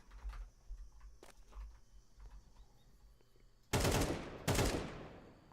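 AK rifle shots in a tactical shooter test through a wall: after quiet clicks and faint shuffling, two loud, close gunshots ring out about a second apart, each with a trailing decay.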